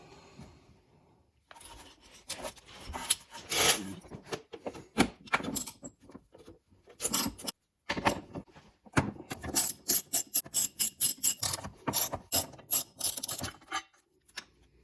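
Ratchet backing out 15 mm and 13 mm bolts from the transmission support member of a 2018 Cadillac ATS 2.0 turbo with an 8-speed automatic, irregular bursts of rapid clicking and metallic rubbing, close and fairly quiet, with no talk.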